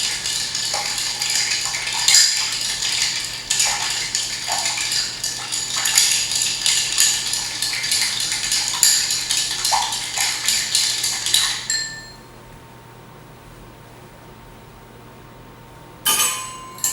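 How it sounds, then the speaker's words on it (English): Bar spoon stirring a cocktail in a mixing glass, a steady run of light metallic clinks and ice tinkles that continue for about twelve seconds and then stop, followed by near silence and one brief clatter. "Now we gotta stir. No citrus juice, we should stir."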